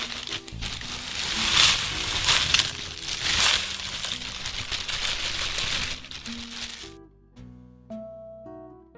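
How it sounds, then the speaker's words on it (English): Dry Chinese medicinal herbs tumble into a stovetop pot with a close, continuous rustle, crackle and patter lasting several seconds, then give way to a few soft tonal notes, with no talking. "First, put the dry herbs in the pot."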